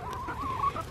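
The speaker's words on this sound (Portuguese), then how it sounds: "Olha, gente, as galinhas saíram. Ele jogou comida aqui fora" Chickens let out of their coop on a Norwegian farm cluck softly nearby as they gather at thrown feed, with no talk.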